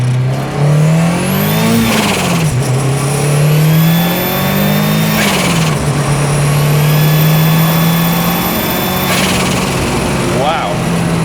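A 1993 Ford Escort RS Cosworth rally car accelerates hard through several gears, its engine revving up in long rising sweeps with brief dips at each shift, loud and close from inside the cabin.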